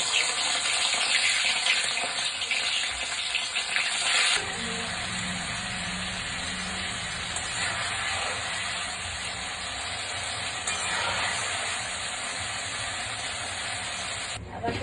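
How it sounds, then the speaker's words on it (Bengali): Square-cut paneer cubes frying gently in hot oil, giving a continuous dense hiss and sizzle that holds steady, with a brief shift in texture partway through, close and fairly loud. "তেলটা গরম হয়ে গেছে, যে হালকা হালকা করে ভাজতে হবে।"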